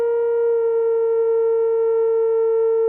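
A single sustained synth note with no attack bends slightly above its pitch and then settles back down. It sounds pure and steady, close and clear, with no other sound around it.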